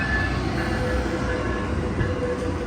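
An Amtrak Capitol Corridor train led by a Siemens Charger SC44 locomotive rumbles past loudly at Emeryville station, a steady roar of wheels and rail carriages with a faint metallic tone running through it.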